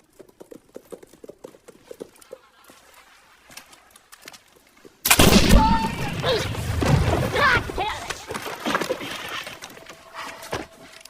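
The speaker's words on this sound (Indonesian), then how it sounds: "Tukar-menukar tembakan tidak terhindarkan." After a quiet, sparse opening, a sudden loud blast breaks in and rolls into a chaotic, sustained barrage of gunfire and crashing noise.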